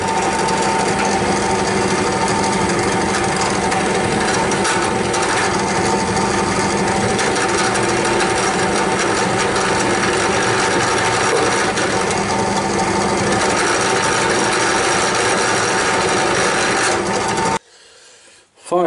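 Metal shaper machine cutting a gear, a loud continuous grinding, rasping mechanical clatter sustained for most of the time before stopping abruptly near the end.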